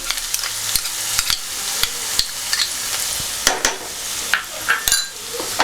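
Chopped garlic and ginger frying in oil in a pan for chicken curry, a steady close sizzle broken by repeated sharp scrapes and knocks of a spatula as it is stirred.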